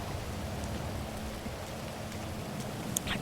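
Steady rain patters and hisses evenly throughout, with no talking.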